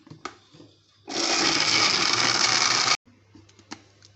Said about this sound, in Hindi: अब मैं इसको ग्राइंड कर लूँगी।